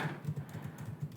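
Soft, rapid keystrokes on a computer keyboard while typing a plugin name into a WordPress search box, faint and steady with a light clicking rhythm and no voices.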